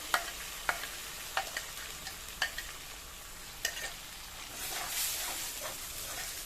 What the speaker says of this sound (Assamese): এইখিনি ভালদৰে লৰাই থাকিম